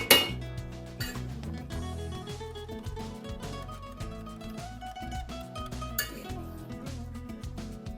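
A metal utensil clinks against a pot while a rice dish is mixed, with scattered sharp taps and scrapes over a busy background of music.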